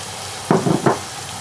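Minced meat sizzles and is stirred with masala in a hot pan, with two short bursts of frying and scraping close by, separated by brief pauses over a low background.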